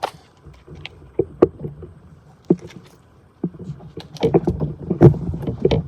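Canoe paddling on a river: irregular splashes and knocks of a paddle against water and hull, close by, growing busier and louder toward the end, with no talking.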